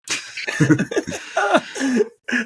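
A person coughs in a rapid, harsh burst of several hacks, close up, with brief pauses between.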